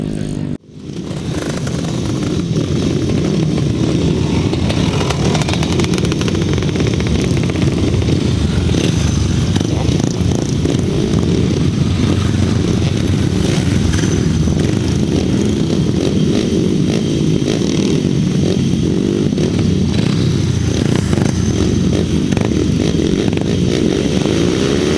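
Several 350cc grasstrack racing motorcycles roar continuously at a spring classic meeting in Ledbury, 2006, engines blaring loud and sustained as the pack heads into a corner after a brief quiet start.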